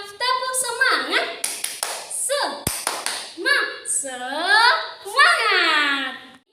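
Children in a classroom do a clapping chant, sharp rhythmic hand claps mixed with excited young voices calling out, close and lively throughout.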